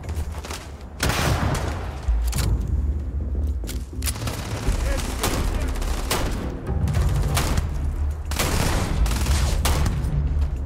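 Laser gun firing in Starfield, loud rapid bursts of shots cracking in repeated volleys with short pauses between them.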